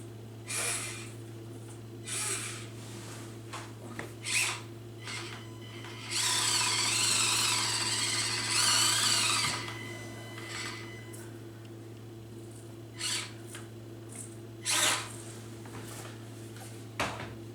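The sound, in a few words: RC crawler rubbing on its lights while running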